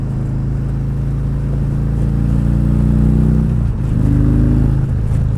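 A Harley-Davidson motorcycle engine, fitted with a hydraulic clutch, revs hard at high RPM in the lower gears, a loud, steady roar that climbs, dips briefly and surges again, with no talking.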